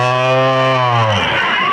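A bull at a jallikattu bull-taming event in Viswakudi, Perambalur district, lets out a loud, deep drawn-out bellow close by that breaks off abruptly into crowd noise.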